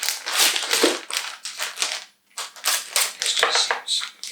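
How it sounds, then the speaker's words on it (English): Scissors snip and slice through a cracked cardboard camera kit box in a string of close, crisp cutting and crinkling strokes with a brief pause midway. "I'm going to use scissors."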